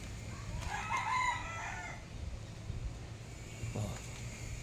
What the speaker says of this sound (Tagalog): Yan po yung buhay na manok.